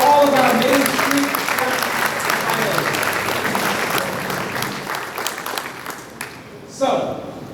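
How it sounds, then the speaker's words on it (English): Audience applause at a pitch competition event: a loud, dense wash of clapping that slowly thins and fades, with a brief swell near the end. "can we hear a big round of applause for all of our Main Street"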